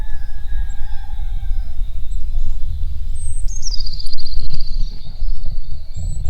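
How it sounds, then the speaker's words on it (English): A peacock's loud, wailing call rises and sweeps across the second half from the roof of a van, over a steady low rumble of background noise. "I have a peacock on the roof of the van"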